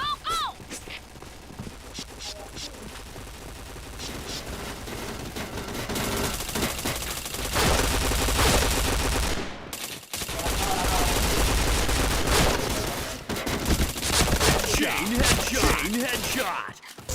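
Rapid automatic gunfire and shot bursts in the first-person shooter Point Blank, dense and loud over long stretches with brief pauses, while a player's voice talks over the action.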